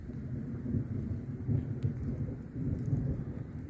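Steady rain patters while low rumbling thunder rolls beneath it, swelling and fading in deep waves.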